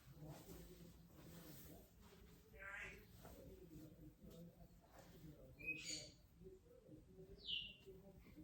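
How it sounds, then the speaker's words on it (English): Birds chirp on a morning indoors during home sewing. A few brief, high calls sit far back under a person talking. "the birds are going crazy this morning"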